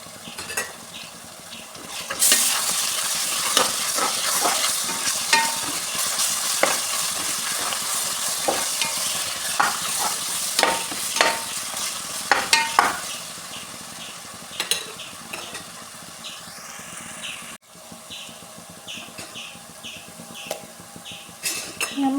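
Chopped onion with a ground paste of ginger, garlic, coriander leaves and green chili frying and being stirred in a pan, a steady loud sizzle with frequent clinks and scrapes of a spoon against metal, no talking.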